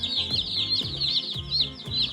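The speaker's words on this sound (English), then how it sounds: "These are nice, healthy chicks." Healthy young chicks peep continuously and shrilly at close range, a busy overlapping stream of high chirps mixed with soft low clucking from nearby fowl.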